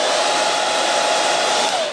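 A 1600W hair dryer blows on its cool air setting, a loud, steady close-up whoosh of rushing air that holds evenly throughout and eases slightly at the very end.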